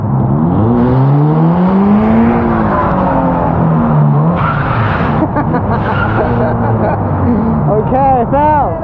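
A car performing a J-turn on a driving course, engine revving and whining through gear changes, with tire skid noise near the end, while people talk over it throughout.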